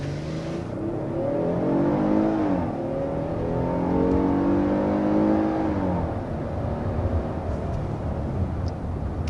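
A 2024 Hyundai Palisade with a 3.8-liter V6 of 291 horsepower accelerates hard, its engine note rising steadily in pitch through the gears and then easing, heard from inside the cabin as a strong continuous drone without talking.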